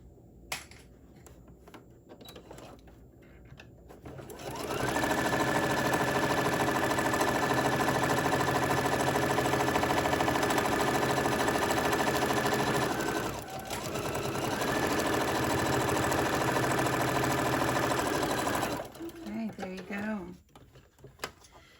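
Sewing machine stitching the last side of a small rainbow mini tote bag: a loud, steady motor whir with rapid needle clatter runs about fourteen seconds, dips briefly midway, then stops, with quiet handling sounds before and after.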